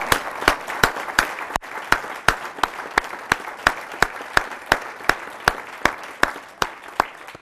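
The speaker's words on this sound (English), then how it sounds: "Ladies and gentlemen, can we have a round of applause, please, for our candidates?" Audience applause for candidates at a state auditor debate held at a City Club, sounding as a steady, rhythmic run of sharp individual claps that carries on evenly for several seconds with no talk over it.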